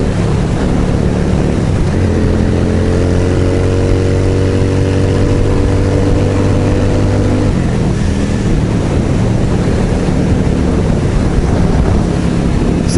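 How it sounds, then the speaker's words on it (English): A Yamaha V-Star 650 motorcycle engine runs while riding, its low drone rising in pitch through acceleration before settling, buried under heavy wind roar on the microphone. "It's a 650 Yamaha V-Star 650."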